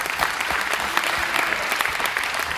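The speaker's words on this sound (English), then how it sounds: "So let's give them a round of applause." Audience giving a round of applause, a full, steady wash of many hands clapping that holds at an even level from start to finish with no voices over it.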